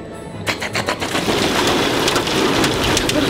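Heavy hail or rain hammering down in a thunderstorm, a dense, steady roar of impacts with a few sharp hits at the start, loud and close, with no voices.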